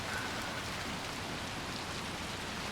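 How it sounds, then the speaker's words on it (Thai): Steady rain falls without a break, partly from the game Little Nightmares II and partly from a real downpour outside, a dense even hiss that fills the whole stretch with no voices. "ฝนมันจะตกแล้วครับคุณผู้ชม ทั้งในเกมทั้งในชีวิตจริงนะครับ"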